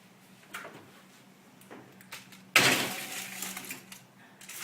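A baking pan of chicken koftas goes into a kitchen oven: a few soft clunks and taps, then a louder metallic scrape and rattle as the pan slides onto the rack, close and clear with no talk.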